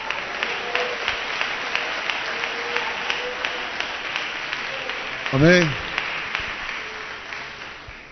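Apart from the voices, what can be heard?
congregation applause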